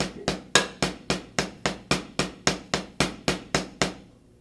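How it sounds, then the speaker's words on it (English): A drum set plays double strokes leading with the left hand: roughly fourteen sharp, close hits in a brisk, even rhythm, heard alone. "The next line is going to be starting on your left hand and then doing the original double stroke"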